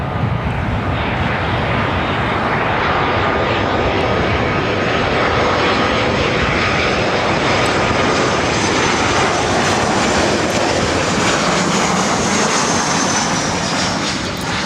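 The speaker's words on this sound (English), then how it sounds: "This is Southwest Airlines 3793 coming in from Sacramento on a 737-700" A Southwest Airlines Boeing 737-700 jet arrives at LAX, its engine roar loud, broadband and steady throughout, with a faint high whine riding above the rumble and no voices.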